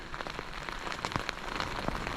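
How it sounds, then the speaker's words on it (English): Rain falling on a shingle beach at Abbotsbury during sea fishing: a dense, steady patter of drops with scattered sharper ticks against gear or a shelter, close and continuous, with no talking. "it's raining"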